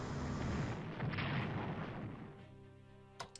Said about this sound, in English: I do need to bomb the Cyprus garrison